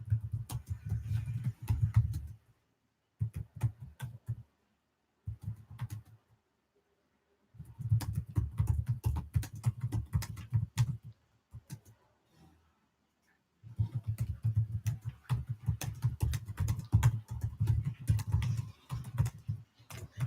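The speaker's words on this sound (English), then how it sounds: "Sorry if this keyboard makes some noise" Rapid typing on a computer keyboard during a live tarot stream, close clicky keystrokes in quick bursts separated by short silent pauses, with no talking.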